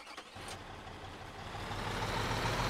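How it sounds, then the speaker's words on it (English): A big tipper truck in Construction Simulator, its engine rumbling steadily and growing louder and closer over a few seconds, with a brief faint beep early on. "I'm taking the tipper truck back. This thing's big though."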